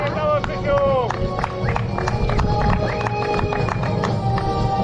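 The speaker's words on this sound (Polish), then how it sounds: "wielkie brawa" A crowd applauds the tenth-place finisher at a podium ceremony after a race. Steady clapping runs through under a voice and babble, with music-like tones above it.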